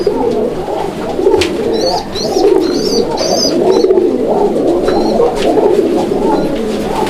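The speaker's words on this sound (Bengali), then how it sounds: "দেখেন এখানে চমৎকার এক জোড়া বোম্বাই কবুতর আছে" A pair of Bombay pigeons coo in overlapping, rolling murmurs, loud and close, with a few faint chirps above and no talking.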